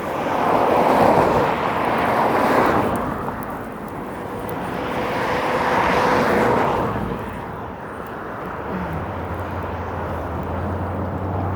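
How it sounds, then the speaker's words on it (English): Winter wind by a lake buffets the microphone outdoors in low, rumbling gusts that rise and fall over the clip. A steady low hum joins near the end. "The wind is blowing my hair in my face."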